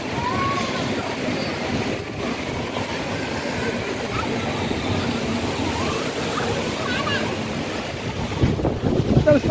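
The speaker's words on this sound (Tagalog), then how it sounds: "Malakas ang hangin." Strong wind and crashing waves around a boat in a storm, a continuous roaring rush with low rumble, loud and steady, with a person's voice faintly under the noise.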